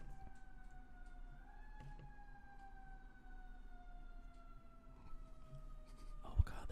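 Ambulance siren outside: a steady, faint wailing tone that slowly drops in pitch as it passes at a distance, under low background rumble, with a brief knock near the end.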